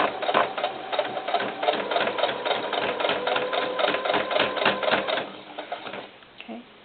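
A sewing machine stitches fabric for a doll cowboy hat, a fast steady needle clatter running for several seconds before slowing and stopping, close and fairly loud.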